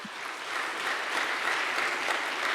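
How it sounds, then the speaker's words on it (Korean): A congregation at a Korean church service claps in praise, a dense, even wash of applause that swells slightly and holds steady. "영광의 박수 하나님께 먼저 올리겠습니다"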